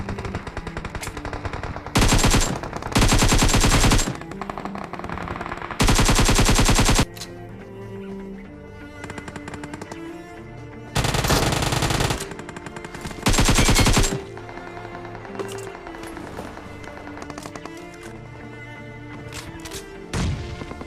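AKM assault rifle fire in the battle royale game BGMI, heard as several loud bursts of rapid automatic shots alternating with quieter stretches of game background sound, with no talking.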